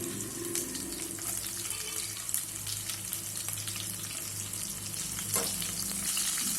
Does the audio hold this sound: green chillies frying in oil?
yes